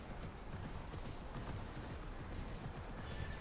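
Horse hooves clip-clop in a steady, quick rhythm in the video game Immortals Fenyx Rising, a continuous galloping patter that holds at an even level throughout.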